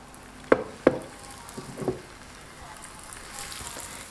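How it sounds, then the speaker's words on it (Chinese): Scallion pancake dough meets hot oil on a preheated electric griddle, starting with a couple of sharp clattering knocks followed by a soft, low, steady sizzle. "油热以后再放入饼坯"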